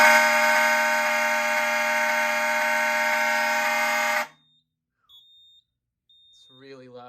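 An outdoor warning siren sounds a loud, steady continuous tone for about four seconds, then cuts off abruptly, leaving faint beeps and a brief spoken voice near the end.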